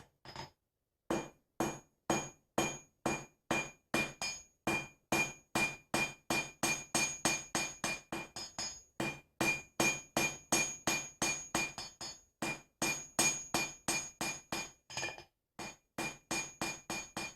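Steady hammer blows ring on steel against an anvil while a cold chisel is forged, roughly two to three sharp metallic strikes per second with brief pauses, loud and close with no talking.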